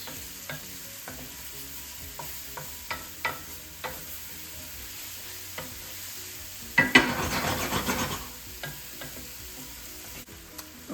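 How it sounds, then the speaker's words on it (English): Mushrooms fry gently in a pan for a creamy chicken and mushroom dish, giving a soft, steady sizzle. Occasional spatula scrapes and taps break in, with a louder burst of stirring near the end. "we're just gonna cook that until the mushrooms are nicely cooked"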